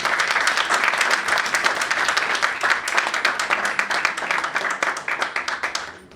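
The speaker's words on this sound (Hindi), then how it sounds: "तो अपने बाप के लिए फिर तालियां।" A church congregation claps together during a sermon, steady dense applause with a rhythmic, almost unified beat emerging, then tapering off abruptly at the end.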